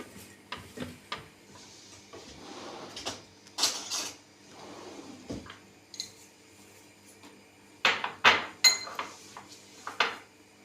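A utensil stirs barley vermicelli soup in a pot, giving scattered metallic clinks and scrapes against the pot in irregular bursts, with quiet gaps between strokes.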